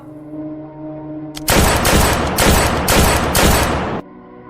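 Loud burst of gunfire from a staged theatre performance, a rapid volley of shots running for about two and a half seconds right after a quiet hum, then cutting off abruptly.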